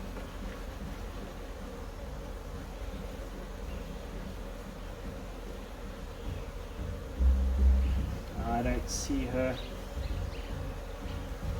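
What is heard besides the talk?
honeybees buzzing in an open hive box during inspection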